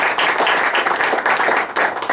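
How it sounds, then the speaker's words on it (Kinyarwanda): Applause from a church congregation at a service, dense, steady clapping filling the space for a couple of seconds with a brief dip near the end. "Reka dukome amashyi."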